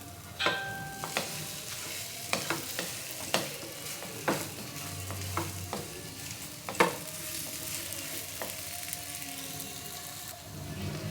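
Carrot laddu mixture, thickened and stiff, stirred in a pan over a low gas flame, giving a steady run of scraping spoon strokes over a soft sizzle, with no talking.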